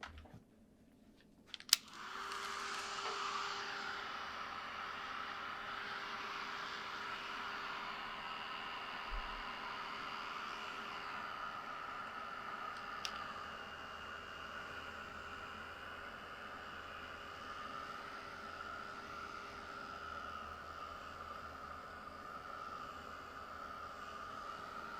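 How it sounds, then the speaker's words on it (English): A small hand-held blow dryer switches on with a click and runs as a steady, even whir of blowing air while drying a painting, close and continuous with no talking. "Okay, I think I better get my little blow dryer out again."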